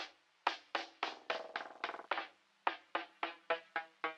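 A Cymatics drum fill run through Coalfire distortion on a feedback trickery preset, with a rapid series of sharp, gritty hits in an uneven rolling rhythm, briefly pausing before resuming, close and alone.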